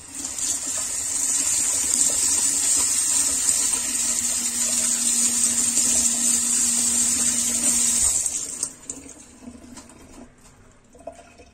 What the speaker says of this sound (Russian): Так, под водичку поставил с этой стороны.